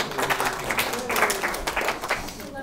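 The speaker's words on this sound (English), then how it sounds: "let's have a round of applause for our volunteer" Audience clapping for a volunteer at an astronomy talk, a close, dense round of applause that fades toward the end while other sounds come through.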